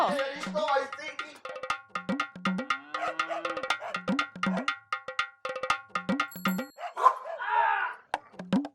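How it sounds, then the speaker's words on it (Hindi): Dog barking repeatedly in short sharp bursts, fairly close, with yips and a whimper mixed in, alongside clanking metallic knocks and brief background voices. "अरे ये देखो बिजी पांडे फिर से भौंक रहा है"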